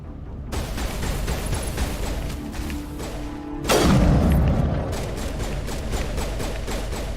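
Gunfire in Mass Effect Legendary Edition: a rapid stream of sharp automatic shots, broken by a heavy booming blast midway, then more steady shooting, loud and close with no voices.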